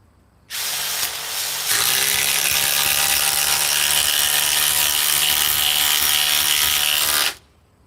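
A Ryobi cordless power tool runs on its Edge battery pack, which is down to three cells. A loud, steady whine starts abruptly, surges once, then holds constant for about six seconds before cutting off, with no voices.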